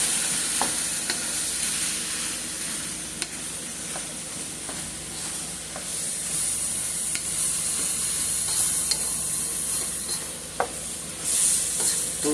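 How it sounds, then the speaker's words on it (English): Ground beef fries in a pan for baked spaghetti, a steady close sizzle and hiss with occasional sharp ticks and spatula scrapes, no voices. "now I can go ahead and add my ground beef right into the pan there"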